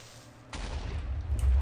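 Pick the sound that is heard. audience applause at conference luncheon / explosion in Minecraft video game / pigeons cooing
explosion in Minecraft video game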